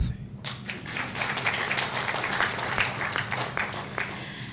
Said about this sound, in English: You should clap.